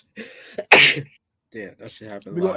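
One loud, sharp sneeze erupts between stretches of casual conversation, with people talking before and after it.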